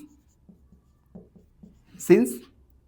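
A pen writes a math solution on paper: soft, close scratching strokes in short intermittent bursts, ending in a brief louder scribble, with quiet speech around them.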